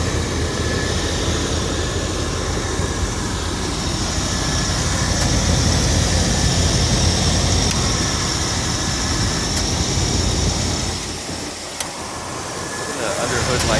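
Air conditioning in a 1987 Buick Regal Limited with a 5.0L engine blows as a steady, broad whooshing hiss close by, with the engine's low rumble underneath and a brief dip near the end.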